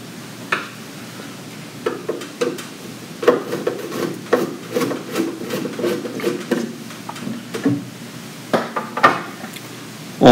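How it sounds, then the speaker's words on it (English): Screws being removed and the front cover lifted off a Series 1300 oxygen monitor: scattered close clicks, taps and scrapes of metal and plastic handling in an otherwise quiet room. "remove these 6 screws from the front cover and set the cover off to the side"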